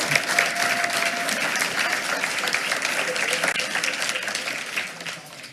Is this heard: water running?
no